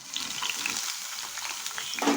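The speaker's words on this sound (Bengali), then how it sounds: "পেঁয়াজটা দিয়ে একটু ভেজে হবে বেশি ভাজার দরকার পড়বে না" Chopped onion frying in hot oil in a pan with dried chili, a close, steady crackling sizzle with occasional stirring scrapes and no talking.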